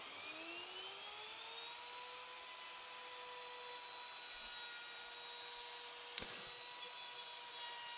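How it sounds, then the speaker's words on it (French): A handheld wood router makes progressive depth passes while cutting a mortise in a clamped workpiece, guided by a double parallel fence. Its high whine runs steadily at close range, and one short sharp click stands out partway through. "Et c'est reparti pour l'usinage d'une mortaise."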